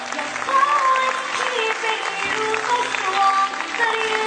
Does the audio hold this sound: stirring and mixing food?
no